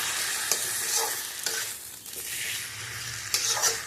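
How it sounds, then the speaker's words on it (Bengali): A spiced curry being sautéed in a hot pan, with a steady close sizzle broken by repeated scraping and stirring strokes of a spoon against the pan, fairly loud and with no one speaking. "ওটা ওর সাথে কষিয়েই নেবো।"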